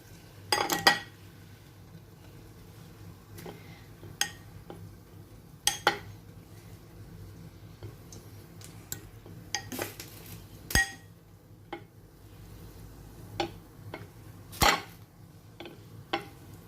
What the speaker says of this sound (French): Je vais prendre mon bouquet et je vais le mettre dans la poêle